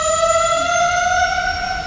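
Machinery of the SALT telescope at Sutherland, South Africa, moving: a loud, steady mechanical whine with layered harmonic tones that holds without a break, slightly easing near the end.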